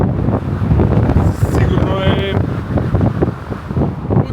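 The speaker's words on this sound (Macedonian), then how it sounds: "Мислам, многу е по ветровито, затоа што и нема стакла овдека." Strong wind at the top of a skyscraper with no glass barriers, roaring and buffeting the microphone in uneven gusts while someone talks briefly over it.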